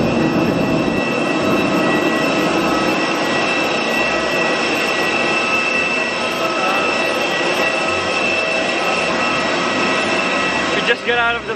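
Loud, steady airplane engine roar with a high whine fills the whole stretch after landing in Palawan, Philippines, constant and near, with a brief clatter near the end.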